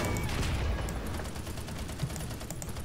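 Gunfire from an M3 Grant tank's 37 mm and 76 mm guns in War Thunder, a dense continuous barrage of shots and blasts that fills the whole stretch at steady loudness, with no speech.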